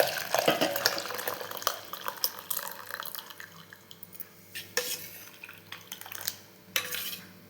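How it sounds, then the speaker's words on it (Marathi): Milk pours into a metal pot at first, followed by scattered clinks and knocks of utensils against the pot. "मी एक पातेलं घेतलेला आहे आणि पातेल्यामध्ये दूध काढून घेत आहे"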